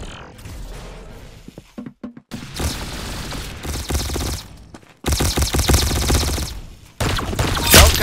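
In Roblox Arsenal, loud bursts of rapid gunfire are broken by short silences, with a boom and clattering weapon sounds among the shots.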